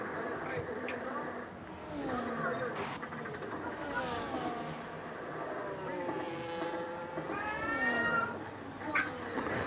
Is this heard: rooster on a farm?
no